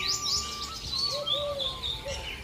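A koel sings on a farm in the early morning, its clear whistled notes mixed with other small birds' chirps, several calls overlapping at moderate distance in open air with no talking.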